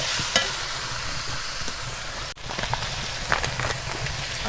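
Potatoes go into a pan of chicken kosha, frying with a steady close sizzle, scattered clicks and scrapes of stirring, and a brief dip in the crackle midway.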